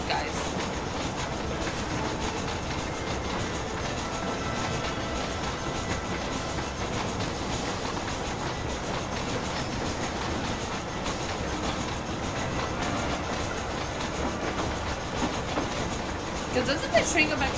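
A moving train in the video game Red Dead Redemption rumbles and clatters continuously, a dense steady roar of wheels on track that stays loud and unbroken throughout.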